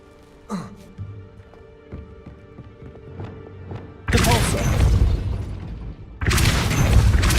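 A Repulsor spell goes off in Hogwarts Legacy. After a few soft thuds and a short exclamation, two loud, broad whooshing blasts follow one another, each lasting about a second or two.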